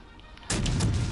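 A heavy burst of naval artillery fire erupts as an enemy battleship is destroyed in a warship game, a sudden loud boom after a quiet half-second that rumbles on with crackling blasts.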